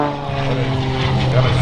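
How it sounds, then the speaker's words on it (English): An Extra 330 XL two-seat low-wing aerobatic plane at an air show drones with a steady, loud propeller engine note, holding close and strong throughout. "He is flying the extra 330 XL Red Bull race plate."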